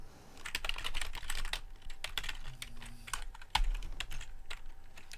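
JavaScript code being typed on a computer keyboard: quick, close clusters of key clicks in irregular bursts with short gaps between them and no voices.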